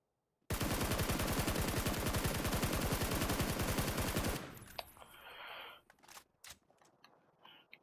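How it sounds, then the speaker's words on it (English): Sustained automatic gunfire from a gun in the PUBG video game, a loud, dense burst of rapid shots lasting about four seconds before cutting off into quieter game noise and a few faint clicks. "trying to control your recoil with your gun. You just unload on it."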